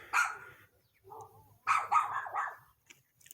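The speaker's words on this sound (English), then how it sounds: "I guess arguing with the dogs from the neighbor's house. It's just barking." A small dog barks at the neighbor's dogs: two bursts of sharp, close barks with a short growl between, separated by brief quiet gaps, loud and unaccompanied by talk.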